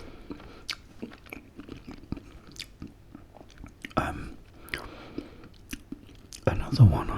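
Close, wet chewing and biting of sausages in batter, with soft irregular crunches and mouth sounds, whispered speech mixed in, and a louder burst of handling near the end.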